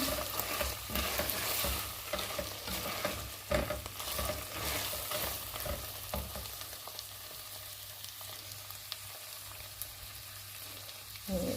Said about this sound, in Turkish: Biraz daha kavuralım